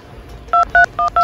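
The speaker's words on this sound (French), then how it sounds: "Il faut que j'appelle Jean-Guy." Four quick touch-tone beeps from a telephone keypad as a number is dialed, short, evenly spaced, clear and close, with no talking.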